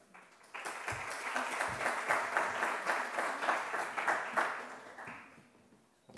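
After a medical talk on managing anticoagulated patients, a seated audience breaks into applause. It builds quickly to a steady wash of many clapping hands, holds for several seconds, then thins and fades out.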